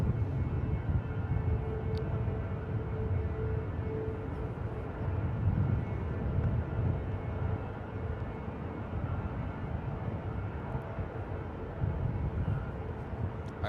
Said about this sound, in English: we got Lufthansa 458 coming in from Munich. It's an A350